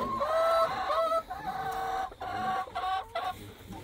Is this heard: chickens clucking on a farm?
yes